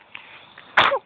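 A sharp, close sneeze bursts out after faint background rustle, brief and loud.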